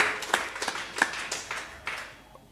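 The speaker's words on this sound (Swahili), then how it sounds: "Tupigie Bwana Yesu makofi." A church congregation clapping for Jesus during a service, a short run of uneven claps and taps at moderate distance that fade toward the end, with no talking.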